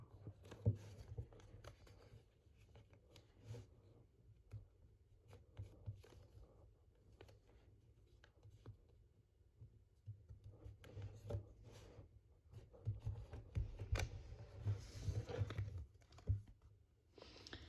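Paper being creased and folded by hand while making an origami jet, soft crinkling and pressing rustles in a steady patter that grows busier and louder toward the end, heard close and alone.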